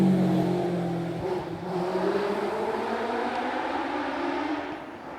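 A Fisher Fury sports racing car powers up the Doune hillclimb in Britain, its engine a loud, steady, buzzing drone that rises and falls in pitch with gear changes and holds close for several seconds.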